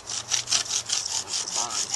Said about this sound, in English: Bamboo heats up in a bow drill form, it becomes very sticky for some reason.